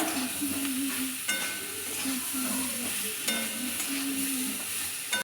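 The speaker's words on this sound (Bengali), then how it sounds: "তাই এরকম পেঁপে আলুটা এখন কষানো হচ্ছে" Papaya and potato sautéing in a pan for a vegetarian dish, a steady close sizzle with a spoon stirring and scraping at intervals, no voices.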